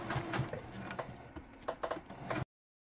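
A sewing machine stitches a long stitch, a close, steady, rapid mechanical ticking and whirring that runs for about two and a half seconds and then cuts off abruptly.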